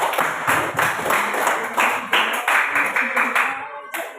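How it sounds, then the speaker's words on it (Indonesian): A group of people at a school open class claps by hand in a rhythmic series of bursts, fairly close, with voices mixed in. "Iya, tepuk tangan buat kalian semua."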